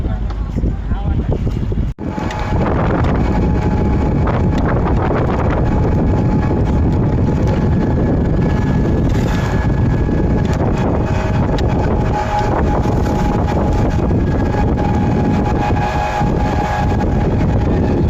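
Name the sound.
wind blowing during boat ride on river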